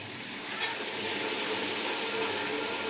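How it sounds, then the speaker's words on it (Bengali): Hot water poured into a pan of frying fried rice, a steady close hiss and sizzle of water hitting hot grains, continuous with no talking. "এবার আমি গরম জল করে রেখেছি, গরম জলটা দিয়ে দেবো।"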